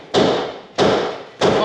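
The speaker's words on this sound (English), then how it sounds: "get yourself a little big hammer and give them drums a right good clack" A hammer strikes a car's brake drums in a workshop. There are three sharp, loud metallic clacks, spaced evenly about half a second apart, with short decays between the blows and no talking.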